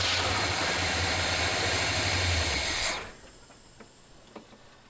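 A 1978 Chevy C10 square-body pickup engine turns over under the starter with the gas untouched, giving a loud, steady, hissing churn for about three seconds before cutting off abruptly, leaving faint background sounds.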